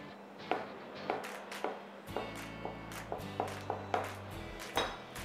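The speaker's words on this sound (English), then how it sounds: "I'll cut it into slices" A knife slices a farm avocado into thin slices on a board, about a dozen soft sharp cuts at an irregular steady pace over a low steady background hum.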